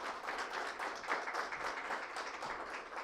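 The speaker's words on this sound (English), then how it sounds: "Can you have another round of applause, please?" An audience at a climate-finance panel session gives a short, steady round of applause, dense and even throughout with no talk over it.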